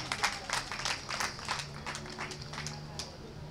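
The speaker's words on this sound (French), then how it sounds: "Donc, on l'applaudit, on la remercie." Audience applause at a wheelchair and tricycle handover ceremony, a loose patter of claps from a modest crowd, moderately distant and fairly quiet, continuing for a few seconds.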